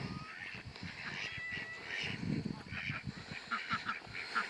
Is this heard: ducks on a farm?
yes